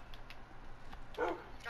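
Dogs in the video game Minecraft give a few soft, quiet barks and yips, spaced out over a steady low background, with one fuller bark standing out near the end.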